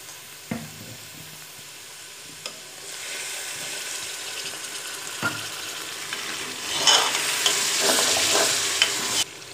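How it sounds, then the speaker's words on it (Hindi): Red chili and spices tempered in hot oil for a tadka, making a steady close sizzle that swells louder toward the end, with a few sharp clinks of a spoon against the pan. "अब लगाएंगे हम लोग तड़का"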